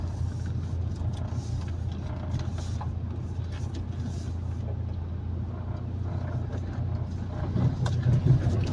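A car creeps slowly along a winding hill road, its low engine hum and road rumble steady and moderately near, growing slightly louder toward the end.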